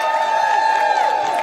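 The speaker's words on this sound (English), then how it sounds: "Give her your best round of applause." A rally crowd in Washington, D.C. cheers and applauds for a speaker, forming a loud, steady wall of massed voices and clapping that holds through the whole moment.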